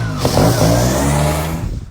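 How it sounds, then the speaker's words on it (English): An electric-start TRS competition trials motorbike revs close by, a loud sustained engine note that rises, then eases off. "It's the TRS with the electric start"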